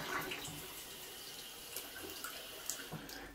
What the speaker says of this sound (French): on a quand même plus de débit d'eau chaude ici